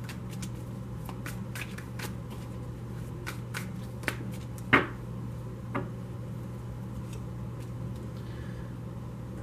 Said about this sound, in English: I have pre-shuffled this deck, so I'm only going to shuffle it for a moment